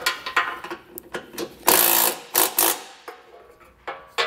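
A socket wrench tightening the bottom nut of a trailer hitch receiver on a 2021 Subaru Outback wagon, making quick ratcheting clicks in short bursts with a brief louder rasp in the middle, close by.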